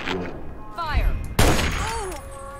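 Gunfire in the video game Fallout 3: a burst of shots lands midway with a sharp, loud blast, set among game sound effects and speech before and after.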